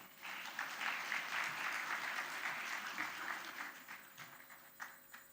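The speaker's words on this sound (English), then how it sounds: "Please give them another round of applause." Audience applause at the opening ceremony of the QS Africa Forum 2025, a dense, steady wash of many hands clapping, moderately distant and sustained throughout without any voices.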